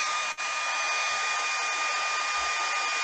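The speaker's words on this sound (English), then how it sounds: "so blow dryer time here" Hair dryer blowing steadily to dry crackle paint over gesso on wood, a constant close whoosh with one brief dip near the start, no talking.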